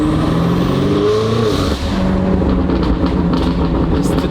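A 2019 BMW M5 Competition fitted with Armytrix downpipes revs loud and close, a steady deep exhaust roar with rising and falling engine tones and one brief dip midway, no talk.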